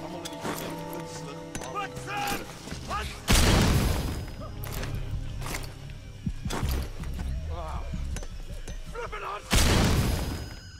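Two sharp, booming stun grenade blasts burst out in Metal Gear Solid V: The Phantom Pain, spaced several seconds apart amid game sound effects, hoofbeats and a talking voice.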